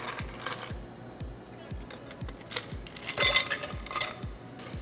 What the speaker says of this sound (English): So now we're gonna stir with ice.